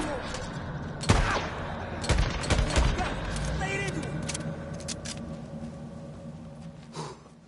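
Gunfire in the zombie-survival video game Days Gone, a burst of several shots mid-clip over steady game ambience and music, with in-game voices speaking around it.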